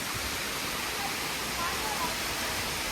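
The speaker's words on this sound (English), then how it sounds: "The waterfall is amazing." A waterfall roars as a steady, dense broadband rush, constant and enveloping with no pauses.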